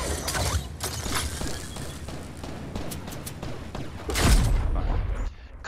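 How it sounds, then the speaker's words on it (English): Fortnite gunfire on Nintendo Switch, a steady stream of rapid shots and clattering over a busy game soundscape, with a louder burst near the end. "Someone's trying to shoot."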